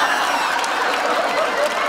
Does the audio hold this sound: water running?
no